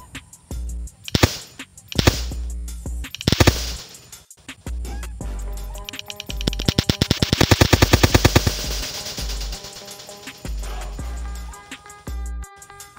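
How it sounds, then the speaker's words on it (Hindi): Homemade six-round pistol firing outdoors, a rapid string of loud, close gunshots with scattered single shots before and after, no talking heard. "तो गाइस देखा किस तरह से चल रही है हमारी गन"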